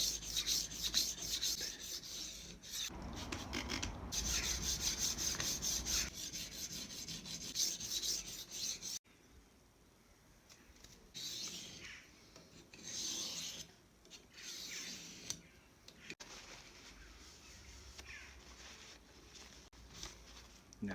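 A kitchen knife is stroked back and forth across diamond sharpening stones, a loud, continuous rasping grind with repeated rhythmic passes, then a gentler, finer scraping after a brief pause.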